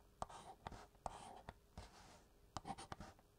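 Numbers written by hand with a pen or pencil on paper during a quiet ASMR-style math lesson: close, soft scratchy strokes in short irregular bursts with brief pauses between digits.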